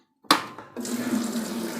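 A single phase submersible pump is switched on after a sharp click, then water gushes out in a steady splashing flow that continues close and loud until the end.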